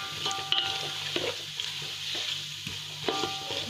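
Raisins fry in a pan for sweet zarda rice, giving a soft continuous sizzle with light stirring scrapes and a few small clicks. No talking is heard.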